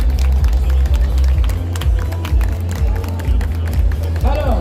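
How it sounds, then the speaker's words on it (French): Audience at Paris Games Week 2024 applauds Just Dance cosplayers on Ubisoft's stage, loud crowd clapping and cheering over pounding event music, with a voice over the speakers. "Les applaudir bien fort encore une fois,"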